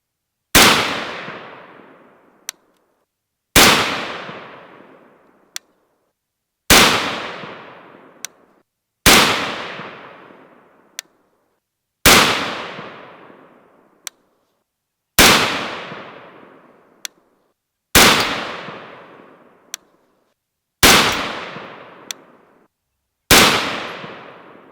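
PPU .223 rifle rounds are fired as single sharp, loud shots, about eight of them spaced roughly three seconds apart, each followed by a long decaying echo. Fainter clicks fall between the shots.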